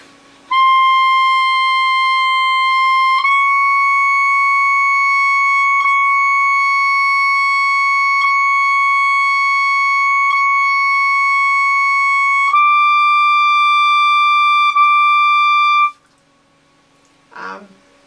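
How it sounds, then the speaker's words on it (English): A saxophone plays altissimo long tones on high notes, starting from D. Three loud, sustained notes play alone, each stepping slightly higher, then a brief faint sound follows the end. "it starts with long tones on the higher notes starting from a D"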